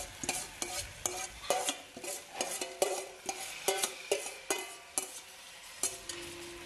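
Pork searing in a pan for nem bì thính, stirred with a utensil that gives repeated sharp scrapes and knocks in an uneven rhythm over a soft sizzle, close and fairly loud with nobody speaking.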